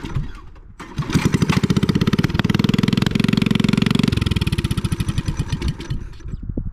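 Coleman B200 mini bike engine with a straight pipe exhaust starts and runs loud and close, a rapid raspy popping that holds steady through the middle, then settles into slower, uneven firing.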